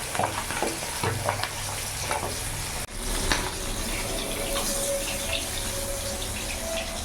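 Tilapia fish sizzles steadily in hot mustard oil in a pan just after being flipped, a dense, continuous close-up frying crackle with small pops throughout and no talking.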